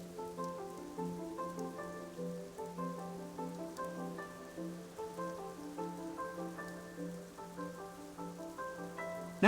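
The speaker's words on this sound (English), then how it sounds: "it's been raining since we got into the village" Steady rain patters on a surface in a village in the video game AFK Journey, accompanied by a soft, looping melodic tune in the background; no voices.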